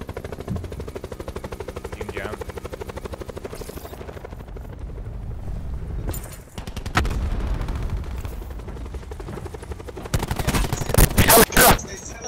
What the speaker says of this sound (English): They were getting sniped out from far line.